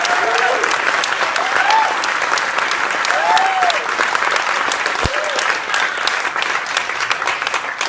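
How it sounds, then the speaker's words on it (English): Steady applause from an audience at an event honoring a survivor, dense and sustained for the whole stretch, with a few voices and cheers rising briefly above the clapping. "Let's give her a round of applause."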